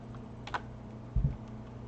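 A few soft, isolated keystrokes on a computer keyboard, with one duller thump near the end, quiet and close in an otherwise hushed room.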